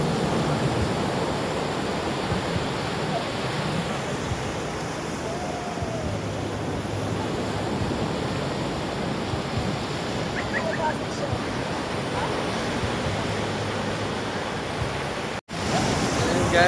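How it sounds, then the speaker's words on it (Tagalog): Large ocean waves crash and roar continuously at Casiguran, Aurora, Philippines, in a dense wash of surf, loud and close, with brief scattered sounds over the noise. "Oh, ang lalaki ng alon, oh."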